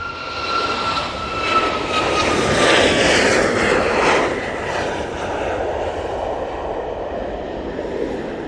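A large long-haul jet airliner at Manchester Airport produces a loud, sustained engine roar that builds and then slowly fades while the aircraft moves past.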